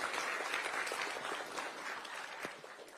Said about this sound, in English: if you can all stand and just stretch and clap for His Excellency the President